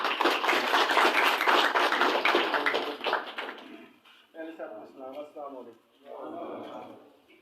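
A crowd at a political gathering claps for about four seconds in a dense, loud burst that then stops, followed by someone speaking alone.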